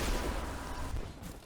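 Shotgun fire in the video game Destiny 2, a loud, booming blast that rolls into a dense, noisy decay lasting over a second, close and dominant.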